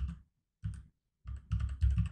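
Soft, muffled computer-keyboard typing in short clusters of keystrokes separated by brief silences, close and quiet.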